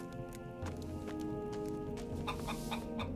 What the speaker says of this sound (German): Ein Huhn